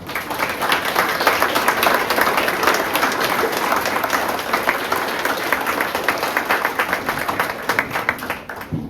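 A middle school audience at a Veterans Day program applauds the veterans, steady crowd clapping that stays full and even throughout, with no talk on top.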